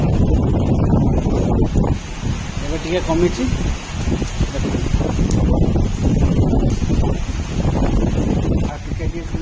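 Strong wind from a nor'wester (Kalbaisakhi) storm in Bhubaneswar roars and buffets against the microphone, with someone talking loudly over the gusts.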